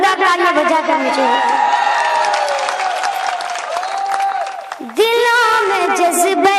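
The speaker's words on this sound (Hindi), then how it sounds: "एक बार जोरदार तालियां बजाकर मुझे" Crowd at an all-India mushaira poetry gathering claps and cheers loudly while a poet's amplified recitation carries over them, the applause dipping briefly before surging again with whoops near the end.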